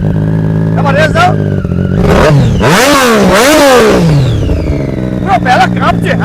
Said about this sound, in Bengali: এবার রেস দাও।